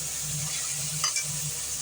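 Green peas and tomato sautéing in a pan for peas biriyani, a continuous close sizzle with a low hum beneath and a brief stir in the middle, no voices.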